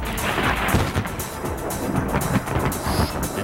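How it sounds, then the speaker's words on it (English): Thunder rumbles through a winter snowstorm, a loud, continuous roll of thundersnow filling the whole stretch with deep, broad rumbling. "We're talking about number 2 here, thunder snow."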